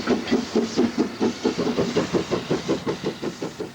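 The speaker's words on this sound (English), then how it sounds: "This is a Bagnall locomotive that was built to compete with the diesel market" Bagnall industrial steam locomotive chuffing in a quick, even rhythm of roughly six exhaust beats a second, moderately close, with no talk.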